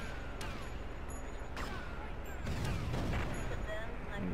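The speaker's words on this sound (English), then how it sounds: "We'll just keep shooting this fucking piece of shit here." Gunfire in GTA: Vice City, several sharp shots scattered over a constant low game rumble, with a denser burst of impacts toward the end, close and fairly loud.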